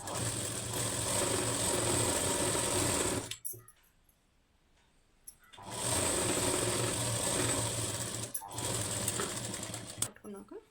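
A sewing machine stitches a blouse lining in steady, fairly loud runs, stopping for about two seconds, then running again with brief pauses and small clicks between bursts.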